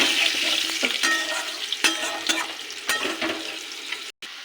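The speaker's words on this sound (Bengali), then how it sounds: "আলুটা ভাজা হয়ে গেছে" Potato pieces frying in hot oil seasoned with cumin seeds give a loud, dense crackling sizzle up close, with a few sharper scrapes and clatters of stirring and a brief dropout near the end.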